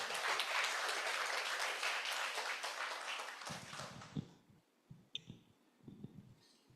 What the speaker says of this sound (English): Can I have a big round of applause for Sister Uma